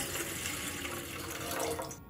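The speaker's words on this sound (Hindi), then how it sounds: "तो मैंने यहाँ पे इडली का बर्तन लिया है और अब डालेंगे इसमें पानी।" Water pouring steadily into a metal idli steamer pot in a home kitchen, a continuous close splashing stream that runs for about two seconds and then stops.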